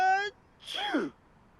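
A short tonal voice sound, then a single close sneeze with a sharp breathy burst that quickly fades.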